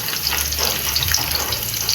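Garlic browning in oil in a pan for pancit, a loud close bubbling sizzle with crackling pops, continuous and steady, no talking.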